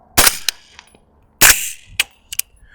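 Suppressed 300 Blackout rifle shots with Magtech 200gr ammunition, two sharp close reports about a second apart, each followed by fainter clicks and a quick echo.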